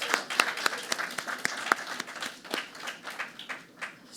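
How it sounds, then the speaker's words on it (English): A modest audience at a school district Hall of Fame induction announcement claps for the five inductees, the individual claps distinct and loosely rhythmic, thinning and trailing off over four seconds. "please join me in giving a round of applause to the 5 members of our 2026 Hall of Fame induction class"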